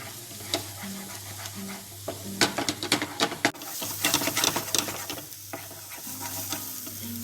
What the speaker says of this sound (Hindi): तो इसको मैं मीडियम आंच पे लगातार चलाते हुए हमारी पालक सारी इकट्ठा कर लें।